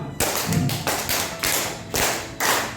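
Teachers at a training session clap a set pattern of one clap followed by four, producing crisp, evenly spaced bursts that sound close and fairly loud, with no talk over them.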